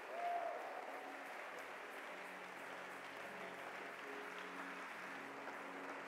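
A church congregation applauding and cheering for God, a steady sustained wash of clapping from a crowd that fills the room evenly and stays fairly far off and soft throughout.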